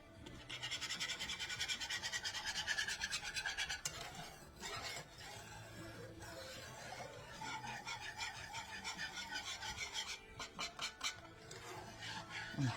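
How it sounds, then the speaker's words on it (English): A whisk scrapes and swirls steadily through Florentine lace cookie batter in a bowl, a close, continuous rasping stir that pauses briefly midway and then resumes in quicker strokes. "you just whisk until smooth"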